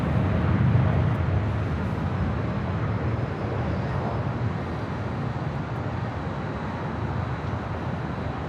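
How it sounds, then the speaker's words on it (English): A United Boeing Dreamliner jet departs for Tokyo Haneda, a broad, steady engine roar that holds through the clip and is loudest at first, with no voices. "The United Dreamliner heading to Tokyo Haneda."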